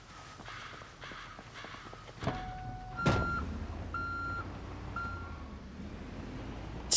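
A vehicle's reverse beep in Project Zomboid, an evenly spaced run of single electronic tones after a vehicle shifts into gear, with crow caws and engine rumble around it.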